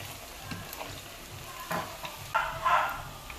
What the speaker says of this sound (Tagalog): Haluin lang natin ng mabuti para kumapit ang sugar sa ating turon.